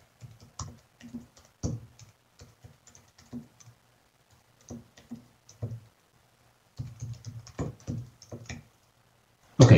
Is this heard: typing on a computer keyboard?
yes